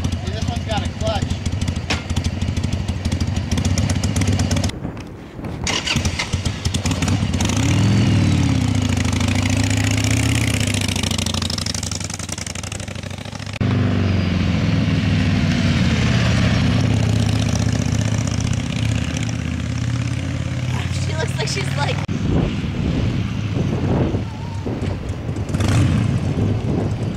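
A Yamaha TTR-90 dirt bike with a clutch runs on a motocross track, its small engine droning steadily and loudly close by with revs rising and falling, while people talk over it.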